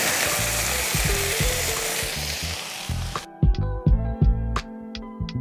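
Mediterranean vegetables sizzle loudly on a griddle plate of a Whistler grill in a dense, continuous frying hiss, then the sizzle cuts away to quieter, sharp metallic taps and clinks.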